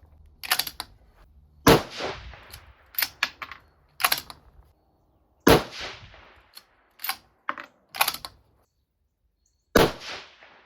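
Rifle shots fired one at a time while sighting in a 5-30x56 scope, each a sharp loud crack with a short decaying tail, spaced irregularly with quiet gaps and faint handling clicks between.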